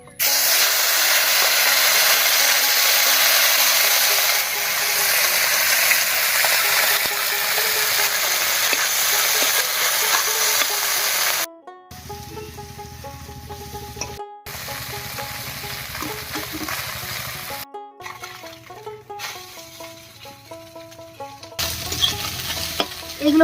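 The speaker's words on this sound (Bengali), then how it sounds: "তেল গরম হয়ে গেছে, এবার মাছগুলো ভেজে নিচ্ছি।" Fish fry in hot mustard oil in a kadai over a village clay stove, loud sizzling and hissing at first, then gentler frying crackle with intermittent stirring and brief gaps.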